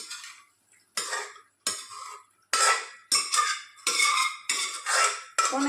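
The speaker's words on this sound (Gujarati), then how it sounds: "તો હવે આપણે એમાં મગ એડ કરી દઈએ" Mung beans are tipped and stirred into an onion-tomato gravy in a metal pan, producing about eight sharp, close scraping and clattering bursts separated by short pauses, with no talking.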